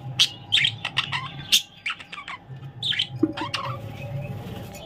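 A bird repeatedly chirps and squawks in short, close bursts, with brief pauses between calls and no talking.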